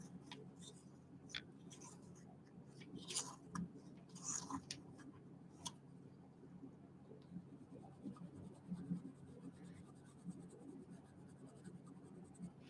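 Old colored pencils scratch and scrape steadily across paper, a soft continuous rustle with faint ticks and taps as strokes change, close and quiet with no one speaking.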